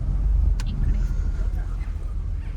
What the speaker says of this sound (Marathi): आता गाडी पार्क करतोय.